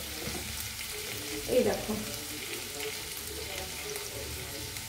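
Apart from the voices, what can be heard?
cracked cardamom pods frying in hot oil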